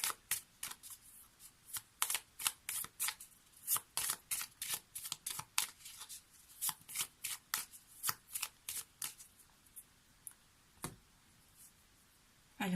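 Oracle cards are shuffled and drawn in a steady, quick rhythm of crisp flicks and riffles, close and fairly quiet, with a final slap as a card is set down.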